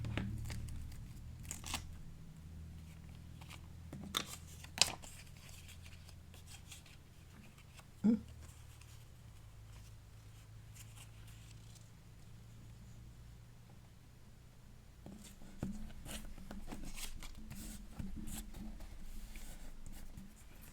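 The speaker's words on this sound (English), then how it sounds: "Just gonna cut off whatever overhangs." Scissors cut overhanging paper for a craft project in sparse, quiet snips and rustles, with a few sharper clicks and crinkles against a low, faint room hum.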